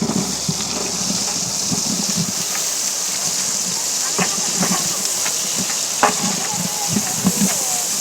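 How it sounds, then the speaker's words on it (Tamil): Onions frying in a pan for a Tamil-style clam curry, a steady broad sizzle with faint stirring scrapes and occasional pops, close and continuous throughout. "நல்லா வெங்காயம் ஃப்ரை ஆகிட்டு"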